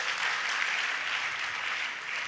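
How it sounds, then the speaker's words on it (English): Warm applause from a university convocation audience, a dense steady wash of many hands clapping that fills the whole moment without pause. "Please, I need the applause to be warmer than that."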